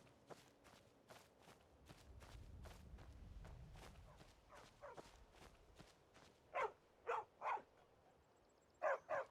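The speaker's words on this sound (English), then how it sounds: "What is that dog doing?" A dog in Skyrim barks in a few short, sharp bursts near the end, after a stretch of soft footsteps and quiet ambient game sound.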